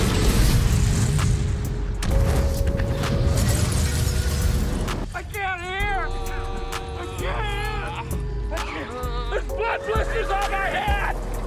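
Explosion scene from the comedy film The Other Guys: a loud, sustained roaring blast and crashing debris for about five seconds, then a busier stretch of tonal film soundtrack and effects with scattered impacts and a continuous low rumble underneath.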